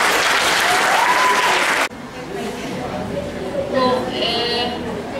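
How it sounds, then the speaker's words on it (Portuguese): A school Christmas show audience gives loud, dense applause for a presenter, which cuts off abruptly after about two seconds and leaves crowd chatter and voices talking. "Palmas para ele."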